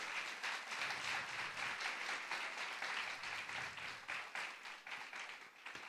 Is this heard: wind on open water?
no